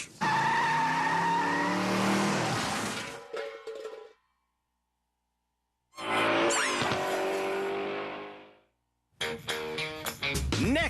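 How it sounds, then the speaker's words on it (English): A car skids on ice with long tire squeal and engine noise, two sustained slides separated by near-silence, then a third burst of screeching tires and revving. "Canada's worst drivers learn how to control a skid on ice"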